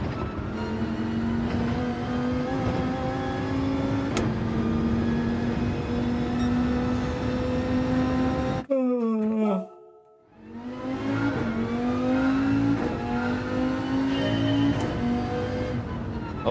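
Race cars bump drafting in a pack in the video game Gran Turismo 7, a loud steady engine drone with gear shifts and a sudden brief drop-out before the engines roar back, with a voice talking over it.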